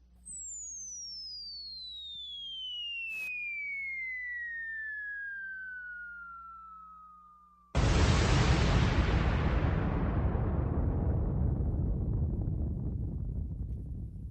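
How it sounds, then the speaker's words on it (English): A classic cartoon bomb drop effect: a long falling whistle slides steadily downward for several seconds, then a loud, sustained explosion rumbles and slowly decays, with no voices over it. "But a bomb drop for that statement"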